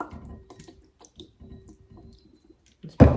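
Vanilla extract is poured from a bottle into a bowl of blueberry streusel muffin batter, making a few faint, scattered drips and a quiet trickle, followed by a brief louder clatter at the end.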